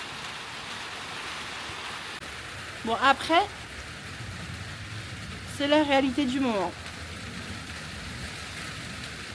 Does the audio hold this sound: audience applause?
no